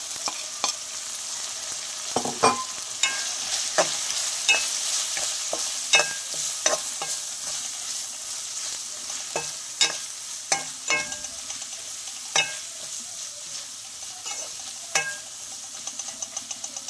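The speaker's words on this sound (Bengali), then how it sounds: "মশলাগুলো তেলের মধ্যে ভাজা হয়ে গেছে" Steady sizzling of red chilli powder, turmeric and other spices frying in hot oil for mutton curry, with repeated scraping and stirring clicks from a utensil throughout; no voices.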